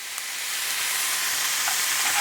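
Fish fries in a pan after Shaoxing wine is poured in, a loud, continuous hiss and sizzle of steam that builds slightly and holds steady.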